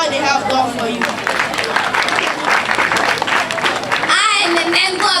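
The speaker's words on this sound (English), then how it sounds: "I would like to say a big thank you to your parents by giving them a round of applause for all they have done for you." A round of applause for the parents at a school graduation and prize-giving day, loud, dense clapping from the gathered crowd with voices and cheers in the mix, fading as it ends and a voice begins speaking.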